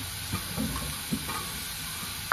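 Tomatoes with salt cooking in a covered pan give a soft, steady sizzle and steamy hiss, with a few faint clinks and bubbling pops rising above the low simmer.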